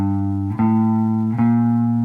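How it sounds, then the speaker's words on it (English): Walking bass line picked on guitar for an R&B cover: three sustained bass notes stepping one after another, each ringing clearly with rich overtones, loud and close with no talking. "Now what I'm doing something is we call like walking the bass line. So you hear those bass notes."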